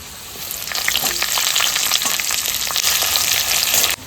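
Steady, bright sizzling of onions frying in hot oil, close up, with faint scraping of stirring mixed in before it cuts off.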